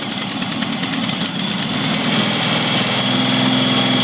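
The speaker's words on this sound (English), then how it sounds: "To start it, you set the choke all the way shut, give it about a third throttle," A Kohler Command Pro 27 engine on a Vermeer BC600 brush chipper idles steadily just after starting, a loud continuous mechanical drone with a faint rhythmic ticking at first, running alone without talk.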